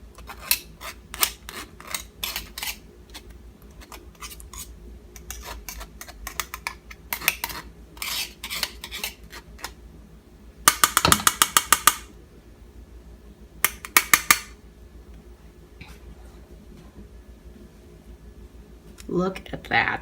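A spoon scrapes fresh tomato pulp through a strainer or food mill, giving irregular bursts of scratchy, clicking strokes close by, with a few denser scraping flurries and pauses between them.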